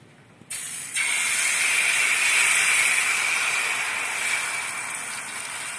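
Wheat flour batter hits a hot oiled griddle with a sudden loud hiss that swells a moment later into a strong, steady sizzle and stays close and constant, with no voices.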